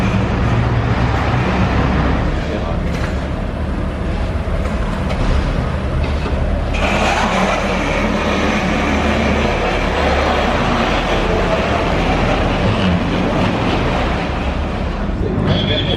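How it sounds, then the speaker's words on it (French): A Ford GT sports car arriving in Monaco streets: a steady loud broadband roar of engine and traffic noise throughout, with a brief surge midway, no clear speech. "Et la Ford GT qui arrive."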